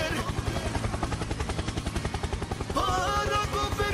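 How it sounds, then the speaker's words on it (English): Rhythmic helicopter rotor thumping from the video game Palworld runs throughout, with game-like tonal effects joining near the end. "Helicopter, helicopter. Helicopter, helicopter."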